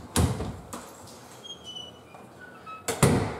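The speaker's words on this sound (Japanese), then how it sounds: "そしてこの扉を開けますと、" Interior door in a Japanese rental apartment opening to the toilet, with two sharp thunks at start and end and faint squeaks between, close by with no talk.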